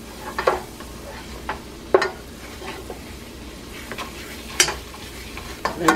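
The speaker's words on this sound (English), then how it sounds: "One tablespoon of flour. Cook the flour a little." Flour cooked in a sauté pan like a roux for a mushroom cream chicken dish: a low, steady sizzle broken by several sharp utensil scrapes and taps against the pan, close by and with no voices.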